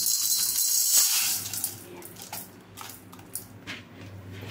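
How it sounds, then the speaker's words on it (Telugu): Water runs and splashes as urad dal is washed in a bowl, a tap stream rushing at first and then settling into softer sloshing and swirling of the lentils by hand. "ఇది 2 or 3 టైమ్స్ నీట్గా వాష్ చేసుకొని మంచి వాటర్ పోసుకోవాలండి."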